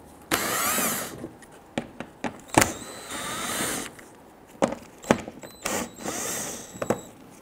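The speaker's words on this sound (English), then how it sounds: "use your 10 millimeter socket or Phillips head screwdriver, remove the screws across the front" Ratcheting and clattering as screws are removed with a 10 mm socket from the lower front grille trim of a 2006-2012 Toyota RAV4, with bursts of tool noise and clicks coming in irregular spurts, close and fairly loud.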